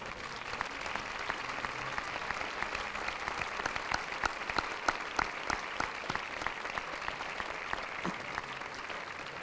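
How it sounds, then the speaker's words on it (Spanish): Dense, sustained applause fills a concert audience at a festive-music (música festera) concert in Guardamar, Spain, with crisp overlapping claps continuing steadily and no talk over it. "ruego un fuerte aplauso para todas ellas"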